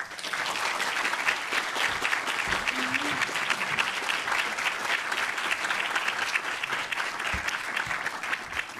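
A conference audience applauds steadily and warmly to welcome Dr. Jacques Vallée at the Archives of the Impossible plenary session, a dense, sustained clapping from a large crowd that continues without a break.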